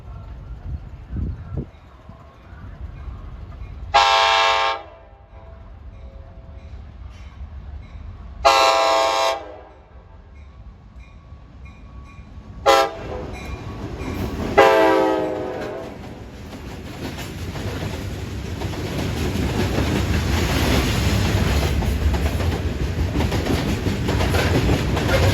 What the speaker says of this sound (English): Here comes New York and Atlantic train RS-70 out of Fresh Pond in Queens, headed for Pioneer.